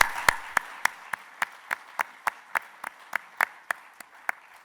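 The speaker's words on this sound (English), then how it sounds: "Yes, give them an applause." At a welcome event, a lone pair of hands claps slowly and evenly, about fifteen sharp, close claps at a steady rhythm, with little else around them.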